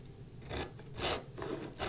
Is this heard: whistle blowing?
no